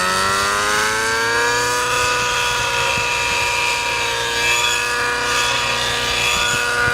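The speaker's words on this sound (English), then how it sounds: "It's got a slightly rough sound to it, which is rich." An O.S. 105HZ-R model aircraft engine running rich, loud and close, with a high, slightly rough buzzing drone, its pitch drifting gradually downward.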